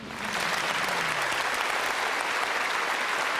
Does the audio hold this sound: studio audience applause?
yes